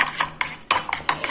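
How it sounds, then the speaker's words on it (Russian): A utensil stirs salad dressed with soy sauce and pepper in a bowl, giving about five quick, rhythmic scraping clinks against the bowl, close and fairly loud, with no talking. "Все перемешиваем."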